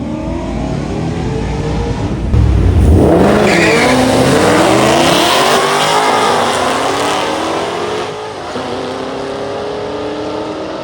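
A Ford Mustang makes a drag strip pass at a Mustang Week drag day, its engine roaring hard and rising through the gears. The loud, continuous exhaust note eases off near the end, and there is no talk.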